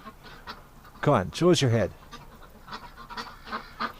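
Ducks at a winter pond give a loud, nasal honking call of several harmonic bursts close by, with quieter calls scattered before and after and someone speaking softly in between.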